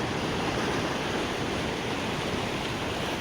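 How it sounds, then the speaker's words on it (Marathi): Water of the Terna river flowing steadily, a continuous broadband rush with no breaks and nothing else standing out over the morning scene. "हे सुंदर दृश्य पाहून पाण्याचा प्रवाह देखील आपण पाहू शकता"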